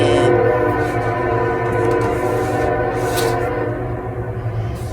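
A loud, sustained train horn blares steadily over a deep rumbling engine, holding one droning chord for the whole stretch.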